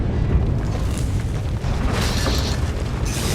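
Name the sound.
groundquake rumble in a video game, Star Wars: The Old Republic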